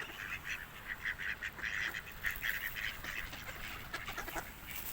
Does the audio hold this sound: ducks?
yes